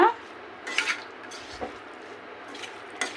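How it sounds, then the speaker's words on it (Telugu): A spoon clinks and scrapes against a pan in a few light, close strokes as potatoes are folded gently through masala, over a faint background sizzle. "మనం ఎక్కువ దీన్ని ఆలుని ఏం ప్రెస్ చేయకుండా ఒక ఇట్లా కలపండి, మసాలా అదే అంటుకుంటుంది దీనికి"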